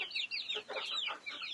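Several chickens cluck and chatter in a small backyard coop with tiny chicks, a busy overlapping run of short clucks and squawky calls, close and moderately loud with no talking.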